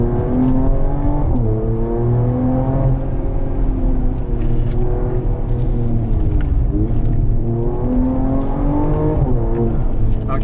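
A 2022 Mercedes-AMG GT43 4Matic Plus engine revs hard in a low manual-selected gear on a winding road, its loud, steady drone rising and falling through several pulls, close and continuous, with a faint voice now and then.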